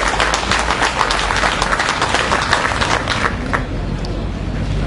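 Dense, steady clapping from a crowd at a 2012 wind band gathering in Oklánd, broadband and continuous throughout, with a faint murmur of voices underneath.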